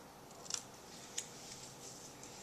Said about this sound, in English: So we're just going to do a tiny little cut off.